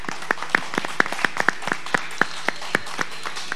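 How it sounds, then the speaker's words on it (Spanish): Sparse, distinct hand claps at a live vallenato concert, sounding like only a few people clapping. The sharp claps come in a loose, fairly regular rhythm over a quiet background. "vamos a darle un fuerte aplauso"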